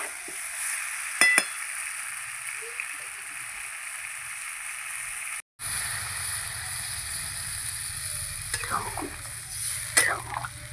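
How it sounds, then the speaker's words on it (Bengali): Spiced potato and green banana sizzle steadily in a pan, a few sharp scraping clicks breaking through. After a brief drop-out, water goes in and the frying turns to a lower, bubbling simmer with occasional clinks of stirring. "মশলাটা কষানো হয়ে গেছে, এবার আমি জল দিয়ে দেবো।"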